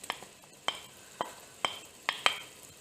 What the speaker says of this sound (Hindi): और इसको भी हम अच्छी तरह से भून लेंगे।